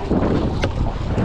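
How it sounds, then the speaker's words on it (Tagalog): Wind gusting over a fishing boat at sea, a loud rough buffeting rush across the microphone with a brief sharper hiss midway, no talking. "Malakas lang ang hangin konti."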